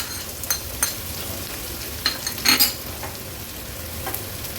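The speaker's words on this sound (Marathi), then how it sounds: "कढीपत्त्याची पानं, थोडंसं हिंग, बारीक बारीक चिरून घेतलेला कांदा ॲड करते." Curry leaves, a pinch of asafoetida and finely chopped onion frying in oil with cumin: a soft continuous sizzle with a few sharp stirring clinks and scrapes, no talking.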